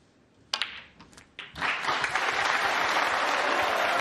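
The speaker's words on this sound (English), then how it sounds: "There'll be applause for the century" A few scattered claps break out in a snooker arena at the World Championship, then swell into full, sustained crowd applause for a century break that carries on loudly to the end.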